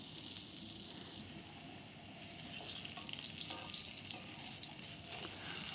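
Potatoes frying in oil with a little salt, in the same oil just used to fry eggs, give a steady, even sizzle and hiss that holds unbroken throughout, fairly soft and close, with no voices.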